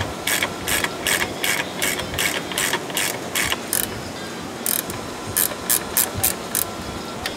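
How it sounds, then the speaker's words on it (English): A ratchet loosening rear suspension bolts on a Mercedes CLS 500 clicks in quick, close bursts of rapid pawl ratcheting, repeated in two runs over a steady background hiss. "Remove the lower airbag bolt and loosen the inner control arm bolt."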